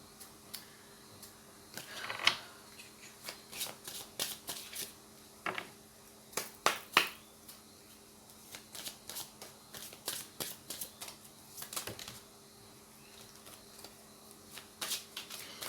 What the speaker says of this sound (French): ça va prendre un petit bout de temps pendant que je brasse les cartes comme ça